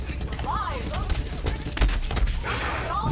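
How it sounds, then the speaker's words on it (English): Rapid bursts of enemy gunfire in the video game Borderlands 3, with sharp cracks and weapon-fire clatter mixed with game effects and a person's voice over the action. "they fired two bullets at a time"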